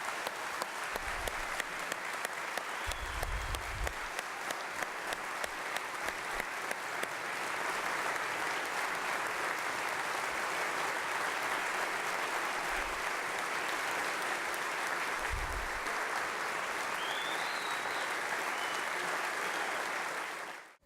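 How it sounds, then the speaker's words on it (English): Sustained audience applause at a 2019 State of the State address, a dense, even wash of clapping from a large room that carries on for about twenty seconds before stopping abruptly. "Give her another round of applause."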